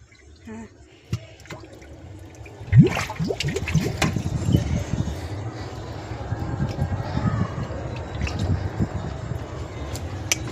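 A Ganesh idol is lowered into a container of water for a home immersion, making a sharp splash followed by sloshing and dripping, with voices around it.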